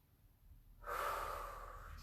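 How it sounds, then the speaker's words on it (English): A deep breath drawn in during a yoga session, a soft airy rush that starts abruptly and continues steadily, close and fairly quiet. "Take an inhale."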